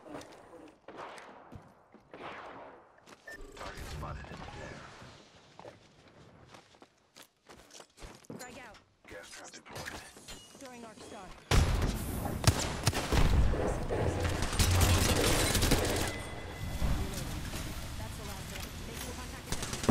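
Gunfire in the online battle royale shooter Apex Legends, a loud dense burst of shots and impacts in the second half, following quieter footsteps and scattered movement, with players talking over the game.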